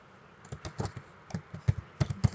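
Quick, uneven keystrokes clatter on a computer keyboard as code is typed, close and moderately loud, growing firmer toward the end with no talk.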